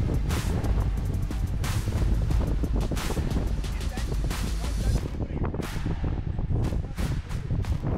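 A freezing wind gusting across ice in Mongolia, loud, irregular bursts buffeting the microphone one after another, with a brief lull partway through.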